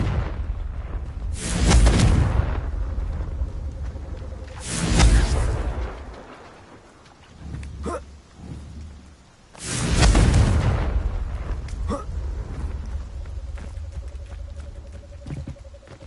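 Three heavy booming blasts of the Confringo fire spell in Hogwarts Legacy, each a loud broadband burst with a rumbling tail, spaced a few seconds apart, plus smaller crackling impacts between them and no voices.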